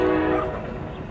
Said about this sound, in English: There goes that train northbound to Sacramento.